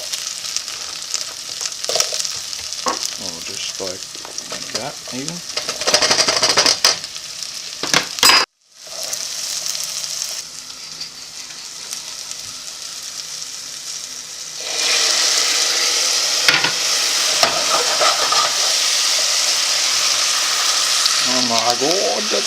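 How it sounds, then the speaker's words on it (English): Vegetables sizzle steadily in a hot pan for a creamy pasta dish, with scraping stirs and occasional utensil clinks; the frying grows louder partway through, and a voice speaks briefly over it. "I'm going to start frying off my vegetables."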